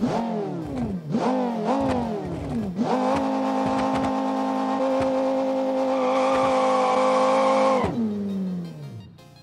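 A Viper-inspired concept car's engine revs several times in quick rising bursts, then holds a long, loud, steady high-pitched roar before winding down, with no speech.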